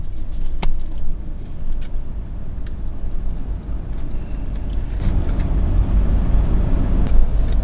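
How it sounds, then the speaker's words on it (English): A Jeep Wrangler Unlimited cruising on a highway fills the cabin with a steady, loud low rumble of engine and road noise, plus a few faint clicks and rattles. "We've been driving for about 23 hours straight, and we're making pretty good time right now."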